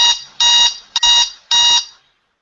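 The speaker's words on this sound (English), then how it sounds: "Alarm clock." An alarm clock beeps in four loud, bright bursts at a steady rhythm before stopping.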